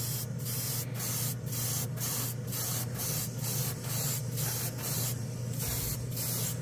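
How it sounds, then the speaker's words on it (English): Gaahleri airbrush spraying gloss black base paint gives off close, steady hissing bursts, about a dozen short regular pulses of airflow over a low background hum, with no talking. "Gloss Black Base from All-Clad is what I was actually spraying."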